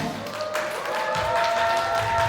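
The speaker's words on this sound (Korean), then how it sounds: "이제 마지막으로 여러분 김규태 감독님을 박수로 모시겠습니다" An audience at a Netflix 'Trunk' press conference photo session claps to welcome director Kim Kyu-tae, a steady mid-level applause with some tapping and faint tones underneath.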